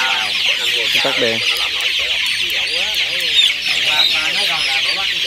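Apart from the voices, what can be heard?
chickens clucking in a coop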